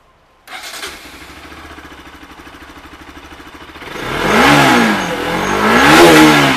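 A used motorcycle at a second-hand bike dealer in Behala starts after a brief silence, idles with a steady chugging beat, then is revved loudly twice, close by with no talking.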